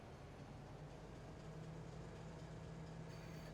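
Train rolling past in the Farming Simulator 25 video game, a steady low rumble with a sustained tonal hum, loud and continuous throughout with no talk over it.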